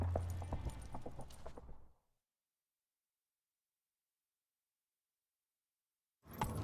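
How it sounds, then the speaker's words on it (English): Horse hooves clip-clopping at a gallop in the video game The Witcher 3, a loud rhythmic run for about two seconds that cuts abruptly to silence before resuming briefly at the end. "Grab a horse, we'll chase him down."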